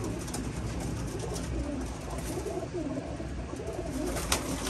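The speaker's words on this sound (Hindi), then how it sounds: "कबूतर है कबूतरी है" Pigeons coo in soft, repeated low calls amid a steady background hum, moderately close with no talking.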